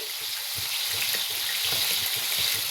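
Chicken lollipop mixture with tomato sauce sautés in a pan, giving a steady, close sizzle and hiss with soft stirring scrapes underneath.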